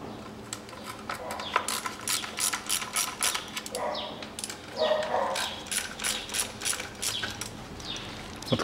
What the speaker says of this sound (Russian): Теперь мы откручиваем клапанную крышку по периметру гайки.